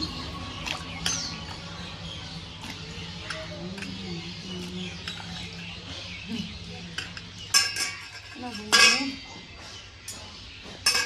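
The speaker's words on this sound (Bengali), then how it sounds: "কাটা কুমড়ো গুলা" Cut pumpkin pieces go into a wok with clinks and scrapes, followed by several sharp metallic knocks and rattles toward the end, close and moderately loud over a quiet kitchen background.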